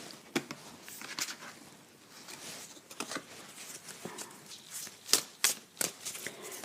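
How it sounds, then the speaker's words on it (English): Playing cards are shuffled in quick riffling bursts with irregular flicks and snaps, close by and with no voices. "keep shuffling"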